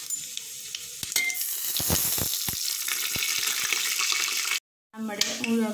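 Whole spices and masala spluttering in hot oil for chicken rice, a steady loud sizzle with sharp crackles and stirring clatter, briefly cutting out before more frying and scraping resume.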